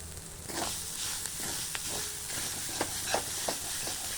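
Grated coconut sautéing in a thick-bottomed pan, frying steadily with a constant close sizzle and hiss, broken by intermittent scraping clicks as a spoon stirs it.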